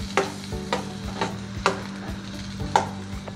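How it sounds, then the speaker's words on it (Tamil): Chillies are lightly sautéed in a pan for chicken Manchurian, with a soft steady sizzle broken by about five distinct scraping stirs, close up and with no talk. "சேர்த்துட்டு லைட்டாக வதக்கி விட்டுருங்க."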